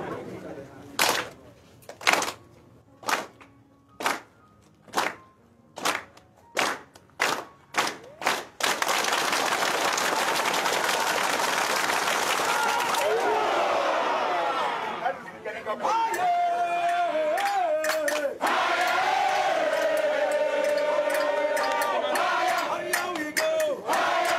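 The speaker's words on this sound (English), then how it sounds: "Wait, we have not moved anything and you are clapping." Audience clapping in sharp separate bursts at first, then building into loud sustained applause and crowd cheering at an evening church gathering, with voices shouting over it.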